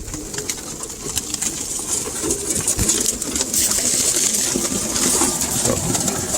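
Pigeons in a loft, soft repeated cooing and rustling close by, steady and continuous with no talk.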